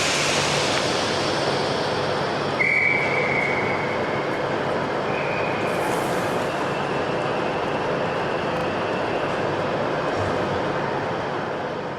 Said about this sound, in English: Services today are hauled by several Class 43 diesel high-speed trains.